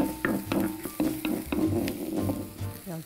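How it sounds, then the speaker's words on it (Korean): Chopped green onion and minced garlic stir-frying in hot oil in a pan, a steady close sizzle broken by repeated scraping and stirring knocks in an irregular rhythm, with no talk. "대파 먼저 볶다가 마늘 넣을 거예요."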